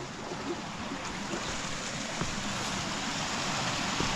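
Continuous rushing flow of stream water at a Scottish loch, close and fairly loud, with a faint brief sound partway through and no talk.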